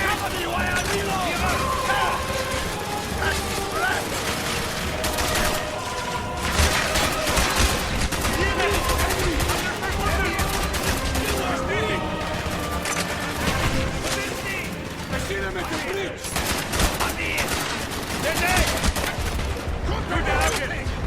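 Gunfire from the video game Call of Duty Black Ops, with dense bursts of automatic fire and single shots that keep going almost without a break, mixed with shouting game voices and crashes.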